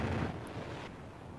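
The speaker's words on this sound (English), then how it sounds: "What kind of completes the whole thing is the sonic boom." F-16 sonic boom sound effect: a deep, broad rumbling blast with the low end cut away, which then drops off into a quieter hiss.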